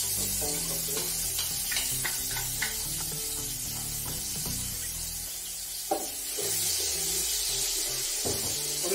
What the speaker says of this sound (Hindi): पेस्ट, और इसको कर लेंगे थोड़ा सा फ्राई।